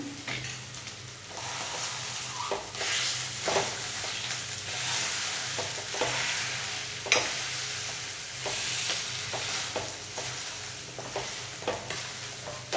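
Cooked potatoes are mashed for an aloo paratha filling, with repeated close, soft squishing strokes and dull thuds in an irregular rhythm over a faint background hiss, without speech.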